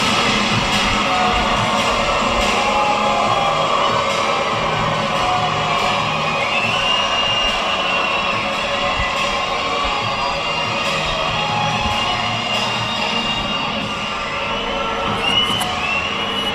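A WWE SmackDown arena crowd cheers and shouts steadily throughout, a dense, loud roar of many voices with occasional whoops rising above it, no clear lulls.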